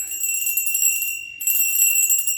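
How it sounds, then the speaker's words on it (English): A bright, high bell rings with sustained shimmering overtones, briefly cut off and then ringing again, loud and close with no speech. "I'm just ringing the bell"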